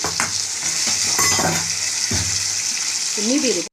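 Chili paneer is stirred with sauce in a hot pan, giving a continuous sizzle broken by repeated scraping stir strokes, close and fairly loud.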